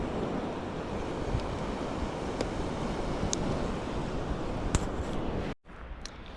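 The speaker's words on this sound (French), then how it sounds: "Là la marée est en train de monter" Ocean surf of a rising tide washing steadily ashore, a broad continuous rush with wind buffeting the microphone, ending with a brief dropout.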